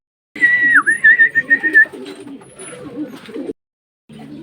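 A racing pigeon arrives and calls with a clear whistled note followed by a run of soft, pulsing coos, close by; a low murmuring sound continues underneath, then a brief pause before more low sound.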